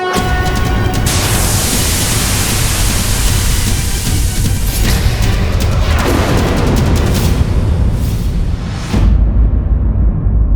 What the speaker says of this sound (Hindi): आकाश में हर ओर अग्नि और विस्फोट